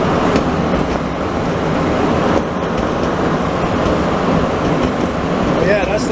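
A Bombardier-built Montreal metro train riding between Mont-Royal and Pie-IX stations makes a loud, continuous interior rumble and roar, steady throughout, with faint metallic squeals near the end.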